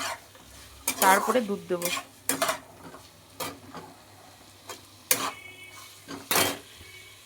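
Chicken sautéed in a pan with repeated stirring, scraping and sizzling in bursts of clinks and scrapes, close and fairly loud, with a brief spoken line in between.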